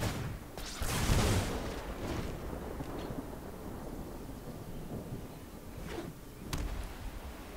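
The Wizard's Lightning spell effect in MTG Arena rumbles like thunder, a broad rolling boom with crackling bursts over a steady stormy roar, with no talk.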